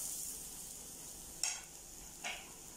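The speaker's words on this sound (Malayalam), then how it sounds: "ആ തേങ്ങ ഒരു മുറി ഇടുക." A piece of coconut goes into masala frying in a pan for a kingfish curry, over a steady soft sizzle with two brief scraping stirs.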